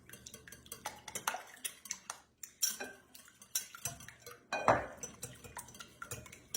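Pancake batter ingredients are whisked in a bowl: quick, irregular metallic clinks and scrapes, close and fairly quiet, with no one talking.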